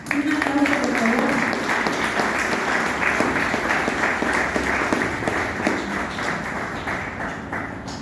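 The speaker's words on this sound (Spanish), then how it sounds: "Un aplauso, por favor." An audience applauds steadily at a graduation ceremony for a Bible institute in Iguala, a dense, continuous clapping lasting throughout and tapering slightly near the end, with some voices mixed in.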